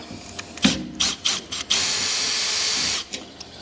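A power drill drives screws out of a battery system case, several short whirring bursts followed by a longer sustained run, close and loud with no talk.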